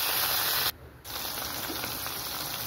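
Garlic, onion and string beans sauté in a pan with a continuous bright hiss, broken by one short quiet gap before the sizzle resumes.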